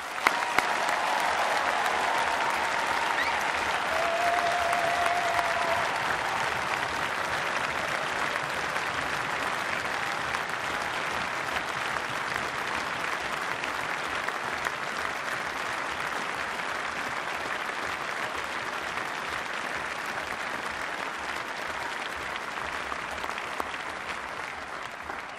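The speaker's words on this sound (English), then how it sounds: "can I have a round of applause for our new graduates?" A large audience at a postgraduate graduation ceremony gives new graduates long, sustained applause, an even roar of many hands clapping that barely fades across the whole stretch, with no speech on top.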